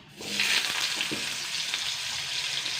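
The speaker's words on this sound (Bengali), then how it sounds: "এবার আমি কিন্তু আলুগুলো দিয়ে দেবো।" Potatoes dropping into hot oil in a pan, a sudden loud hissing sizzle that stays strong and steady, with a couple of soft knocks early on.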